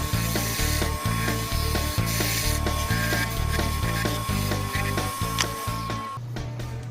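A wood lathe spins a chainsaw-cut goblet blank while a tool trues its rough edge, giving a steady rhythmic thumping and scraping that stops near the end.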